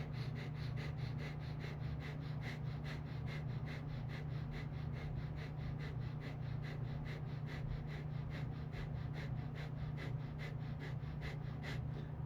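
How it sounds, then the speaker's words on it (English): Yogic Breath of Fire: rapid, rhythmic nasal inhales and exhales pumped from the navel, a steady train of short breath pulses lasting the whole stretch, close and even, over a low constant hum, with no talking. "So again, rapid inhale and exhale."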